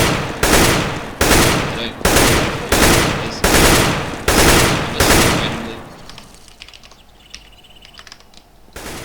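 Rapid gunfire from CS:GO while the player moves, seven evenly spaced loud bursts over about five seconds, each decaying into the next, then fading to quieter clicks and movement.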